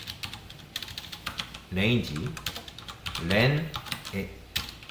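Rapid clicking keystrokes on a computer keyboard while entering Python code, a steady patter of taps that continues beneath someone talking in Korean.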